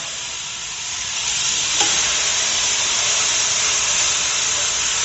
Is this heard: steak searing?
yes